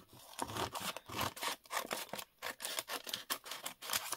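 Scissors cutting through paper for a gift tag, a steady run of close, crisp snips and rustles, about a dozen in quick rhythm.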